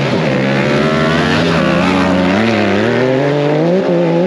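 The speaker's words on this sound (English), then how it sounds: "We've got Rather Be Welding against Dirt Gear TV on their homemade buggies." Homemade off-road buggies race side by side on a drag strip at an offroad park, with loud, close engines screaming and climbing in pitch as they pull away.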